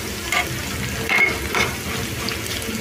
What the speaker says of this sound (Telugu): ఇలా ఫ్రై అయితే సరిపోతుందండి